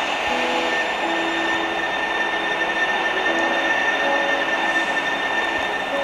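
A steady rumble of a light rail train running along tracks in the Bus Simulator Indonesia game, with constant hum and faint tonal whine, continuous and fairly close, no voices.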